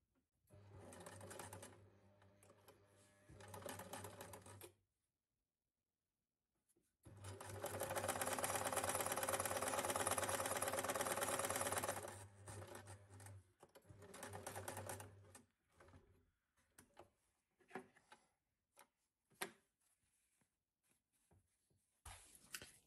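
A sewing machine stitches scrap fabric pieces in several close runs of rapid mechanical chatter, one long burst in the middle, separated by pauses with handling and rustling noises.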